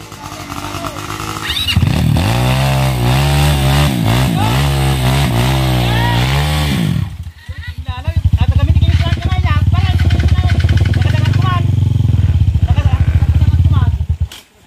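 An enduro motorcycle engine on an off-road training ground revs and clatters loudly, dropping briefly before roaring up again at close range, with voices talking at moments.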